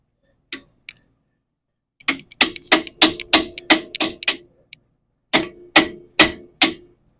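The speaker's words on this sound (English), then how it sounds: "So had to hammer it on." Sharp metallic hammer strikes on a vehicle's tie rod end ring out in rapid bursts, a quick run of seven or eight blows, a pause, then four more, loud and close.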